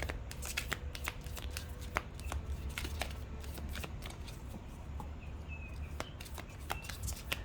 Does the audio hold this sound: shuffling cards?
yes